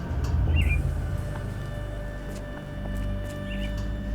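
Caged mynah birds in Sherlock Holmes: The Awakened give two short squawks a few seconds apart, faint and a little distant over a low ambient game hum.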